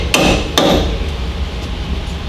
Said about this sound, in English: we're going to give it a tap from the back side to pop it out the front side